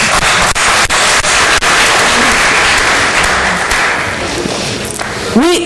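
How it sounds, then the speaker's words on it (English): Loud, dense applause from a large crowd at a mayoral debate, sustained clapping with a few sharper thumps, fading slightly toward the end. "I think you deserve a round of applause"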